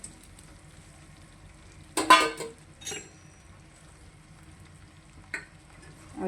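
Edible gum (gundar) frying in a pan and being stirred, with a low steady sizzle broken by a few louder scraping stir bursts, close and alone without talk.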